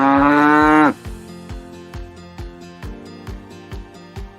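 A cow gives one long, loud, drawn-out moo, followed by a steady, rhythmic thumping beat.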